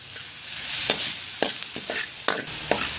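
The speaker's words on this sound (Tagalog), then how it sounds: "Add natin yung bawang." Garlic sizzles in melted butter in a pan for a shrimp dish, a steady close frying hiss broken by several sharp crackles and stirring clatters, with no talking.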